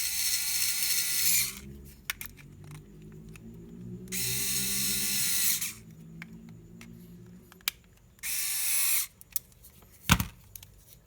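Electric screwdriver tightening a screw while swapping a computer power supply, running in three separate whirring bursts of a second or two each, close and fairly loud, with small clicks and handling knocks between them.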